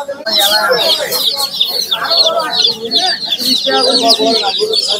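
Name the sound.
broiler chicks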